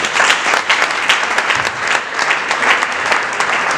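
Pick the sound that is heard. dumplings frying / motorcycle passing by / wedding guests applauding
wedding guests applauding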